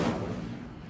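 A fire spell cast in Hogwarts Legacy, a single whooshing, crackling burst that flares loudly at once and then fades over about a second, heard alone.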